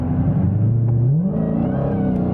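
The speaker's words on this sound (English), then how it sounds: "this is our first drive in the Hellcat Redeye" A 2019 Dodge Challenger Hellcat Redeye with a 797-horsepower engine accelerates on a cold morning, its loud, close engine note rising in pitch as it revs, then shifting down and climbing again with a steady heavy rumble.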